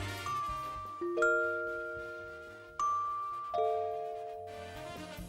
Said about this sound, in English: All we hear are church bells